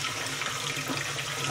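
A kitchen tap runs steadily into a bowl of water as potatoes are rinsed and drained, a close, continuous broadband splash and hiss that holds at an even level throughout with no talking.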